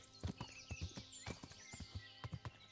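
Horse hooves clip-clop in a steady, uneven gait through Kingdom Come: Deliverance, close and distinct, with a brief whinny-like tone running along above the footfalls.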